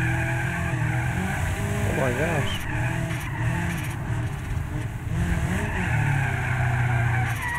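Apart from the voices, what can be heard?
car tires skidding while drifting in BeamNG.drive video game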